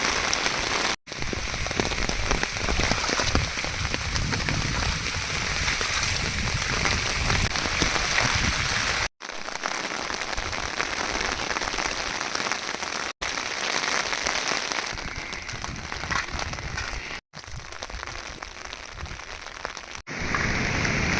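Heavy cloudburst rain hammers down at Dhondegaon, Khed taluka, Pune district, in a constant dense roar, broken by a few abrupt cuts.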